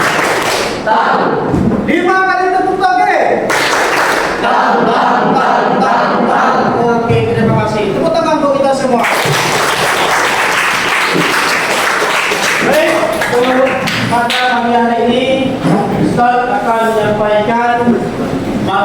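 An Islamic religious education class at a teaching practice session performs the rhythmic 'tepuk toge' clapping chant, loud and close, with group claps and thuds mixed into steady chanting voices and talk throughout.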